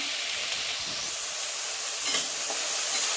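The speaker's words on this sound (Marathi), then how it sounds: "सगळं चांगलं परतून घ्यायचं" Rice and corn kernels are sautéed in a hot pan, a steady loud sizzle and hiss running throughout with faint scraping of stirring.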